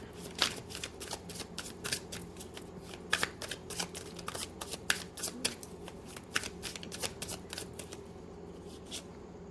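Tarot cards are shuffled by hand in quick, close riffling bursts that repeat with a steady rhythm, crisp and fairly quiet, with no speech.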